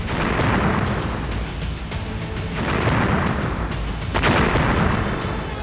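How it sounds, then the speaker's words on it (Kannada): An atom bomb firecracker set on a bag holding half a litre of petrol in the middle of a road bursts into fire, a loud rumbling blast and roar of flames that swells and recurs. "ಆಟಮ್ ಬಾಂಬ್ಗೆ ಬೆಂಕಿ ಹಚ್ಚಿದ್ದೇ ಹಚ್ಚಿದ್ದು ಒಂದೇ ಕ್ಷಣದಲ್ಲಿ ಬಾಂಬ್ ಸ್ಫೋಟಗೊಂಡಂತೆ ಬೆಂಕಿ ಆವರಿಸಿದೆ"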